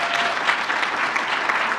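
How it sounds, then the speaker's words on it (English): Steady, dense round of audience applause at the Elevate Her Africa launch event, loud and continuous from a sizeable crowd with no one speaking over it. "So give yourself a round of applause."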